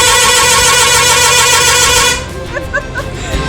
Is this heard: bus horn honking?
yes